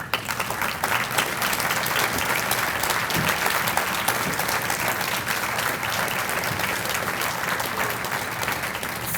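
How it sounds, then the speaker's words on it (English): A large audience at a West Virginia University distinguished alumni ceremony breaks into sustained applause, a dense, steady wash of clapping that holds at full strength for the whole stretch. "stand up and get a little round of applause"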